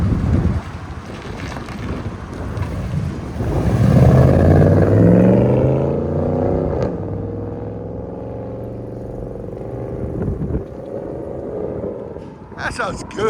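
A 2003-2006 Chevy Silverado SS pickup with a 6.0L V8 and true dual exhaust with a high-flow single cat drives past with a deep exhaust rumble. The engine swells and fades amid wind buffeting and traffic noise.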